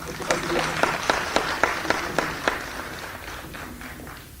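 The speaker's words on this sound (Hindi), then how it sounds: "जोरदार तालियां" Applause from a crowd at a Panchayati Raj empowerment event in Jammu and Kashmir, with rhythmic claps over a steady crowd wash that gradually thins out.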